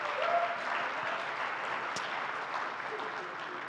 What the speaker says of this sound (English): Please thank them with a round of applause.